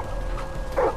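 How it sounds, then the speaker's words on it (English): A dog in the video game Far Cry 5 gives a short, sharp bark or yip, loud and close, closing a brief stretch of game ambience. "Barking."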